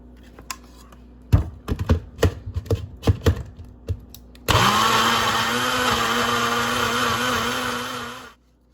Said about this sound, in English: So first I'm gonna blend this up and then season it